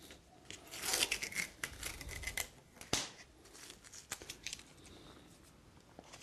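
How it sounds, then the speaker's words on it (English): Tape is peeled off a wooden acoustic guitar part in a guitar-making workshop, with close, quiet ripping and crinkling bursts and a few sharp ticks, no voices. "Get rid of my tape"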